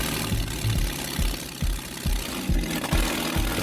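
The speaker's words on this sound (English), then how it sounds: "the engine starts." A replica WWI tank engine, rebuilt with some parts replaced, runs at a rough, low idle with a steady rhythmic chugging knock, close and fairly loud, with no talking.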